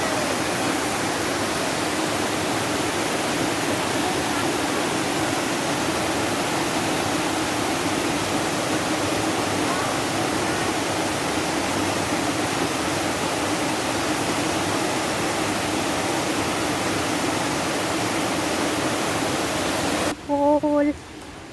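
A tall waterfall in Penang, Malaysia roars with a dense, even rush of falling water, constant and loud throughout, before the sound cuts off abruptly near the end.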